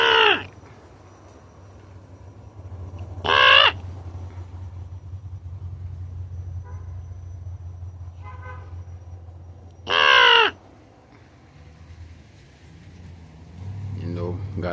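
Crows caw loudly in three separate bursts spaced several seconds apart, over a low rumble of passing traffic, and a voice speaks softly near the end.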